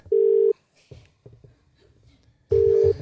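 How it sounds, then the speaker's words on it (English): A telephone call being placed: two loud, steady electronic tone bursts, one at the start and one at the end, with quieter clicks and faint voices between them. "I'm going to ring her to see if"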